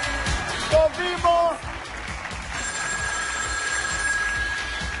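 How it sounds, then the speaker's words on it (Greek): Telephone ringing in the studio of the Greek game show Deal, where the banker calls in; two short bell rings sound near the start, followed by steady crowd noise and background chatter. "Χτυπάει το τηλέφωνο, είναι ο τραπεζίτης."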